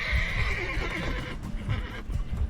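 A horse in The Witcher 3 whinnies loudly amid the clatter of clip-clopping hooves, close and continuous through the short stretch with no voices over it.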